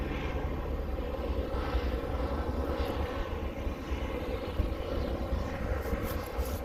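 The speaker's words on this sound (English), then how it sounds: "There's a helicopter." A helicopter passes overhead near a beach community, its broad steady engine and rotor rumble holding continuous and fairly loud throughout, with no talk over it.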